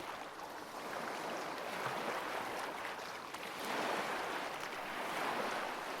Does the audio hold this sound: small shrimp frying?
no